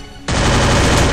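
Rapid video game gunfire erupts suddenly after a quiet moment, a loud, dense burst of automatic shots that continues without a break to the end.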